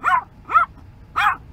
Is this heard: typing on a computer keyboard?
no